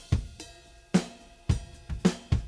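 A raw drum kit chorus from overheads plus kick and snare, unprocessed: deep kicks and cracking snare hits alternate in a driving rhythm under shimmering cymbal wash, loud and close with nothing else heard.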